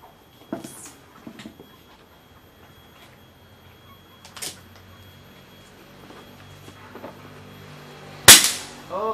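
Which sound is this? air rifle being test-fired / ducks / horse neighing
air rifle being test-fired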